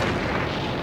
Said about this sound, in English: it's the biggest explosion yet